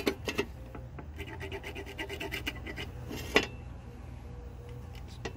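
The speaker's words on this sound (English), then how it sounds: "And we're gonna start scrubbing this thing." Scrubbing a Powerstroke engine part clean with a brush or Scotch-Brite pad during a Hydra Chip install on a Super Duty, heard as short raspy rubbing strokes close by with a few sharper scrapes.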